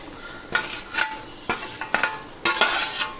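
A spoon scrapes and stirs fried onions into a pot of bubbling curry in several quick, close strokes.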